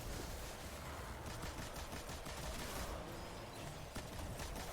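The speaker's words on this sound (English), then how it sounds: "Yeah, just a small regular explosion." A Swarm machine gun in Destiny 2 fires with small explosions, giving continuous rapid crackling bursts in a dense wash of noise that swells again partway through.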